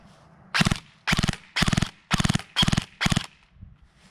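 A VFC MP7 airsoft electric gun fires on full auto in six sharp, evenly spaced bursts of rapid clattering shots, close and loud with brief quiet gaps between them.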